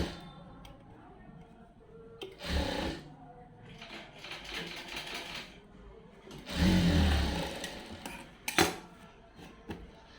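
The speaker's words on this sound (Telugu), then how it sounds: "కొంచెం కొంచెం కుట్టుకుంటూ రౌండ్ షేప్ తిప్పుతూ కుడుతున్నాను నేను" A sewing machine stitches a round shape in tailoring work, running in short close bursts with pauses between them as the cloth is turned, along with some handling clatter.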